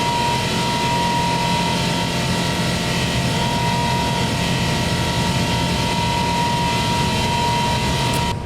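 A Boeing 777-200F freighter, heavily loaded, taking off from Frankfurt in the X-Plane 11 flight simulator: a steady, loud engine roar with a sustained tonal whine, unbroken throughout.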